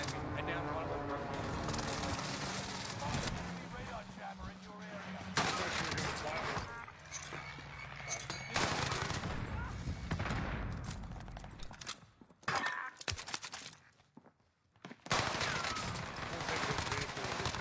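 Sniper gunfire in Call of Duty Warzone on the Caldera map: sharp, loud shots and bursts cut through a dense, busy mix of game noise and voices across the clip.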